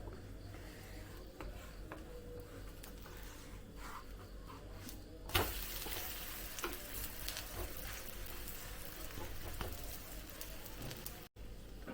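A green gram cheela fries quietly in oil on a pan, giving a faint low sizzle that swells louder midway as it is flipped, with light scrapes and ticks.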